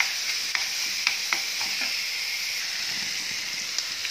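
Lemongrass and chili stir-frying in a hot pan, a steady close sizzle with light scraping stirs and small crackles throughout, no talk.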